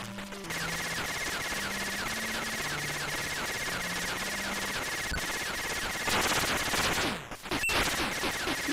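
Rapid, continuous shooting from Xenon 2, a dense repetitive retro gunfire pattern over a low electronic music line, steady and loud throughout with a brief dip near the end.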